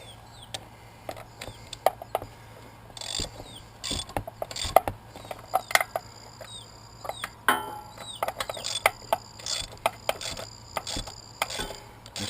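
A hand ratchet tightens bolts on a Suzuki Eiger ATV starter motor, giving short irregular bursts of crisp clicking with pauses between strokes, close and fairly quiet, with no talk.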